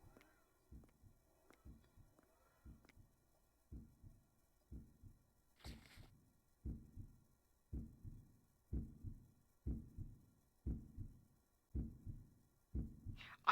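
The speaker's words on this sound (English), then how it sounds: "That is a heartbeat." A slow, muffled heartbeat thumps in a horror game, Angels of Death, with steady paired beats that grow gradually louder and closer across the stretch, alone apart from a brief hiss.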